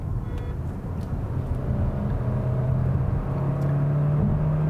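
A 2022 Hyundai Tucson turbocharged hybrid SUV accelerating, a steady broadband road and engine roar with a low hum that slowly rises in pitch, heard from inside and continuous throughout.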